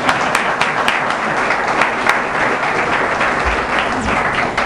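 Audience applause at a hospital press conference for St. Luke's The Woodlands campus, a dense, steady wash of many hands clapping that fills the room throughout, loud and close, with no voices over it.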